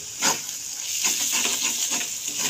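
Masala paste sautéed with salt and turmeric in a pan for a meat curry, a steady soft sizzle with a few scraping stirs at irregular intervals, close and fairly quiet with no talking.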